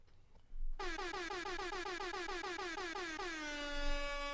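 An air horn sound effect blasting in a long rapid series of loud stuttering honks, continuous and alone, ending in a sustained drawn-out blare.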